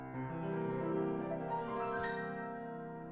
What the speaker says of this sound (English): playing the arpeggio that usually signals that we're about to sing Happy Birthday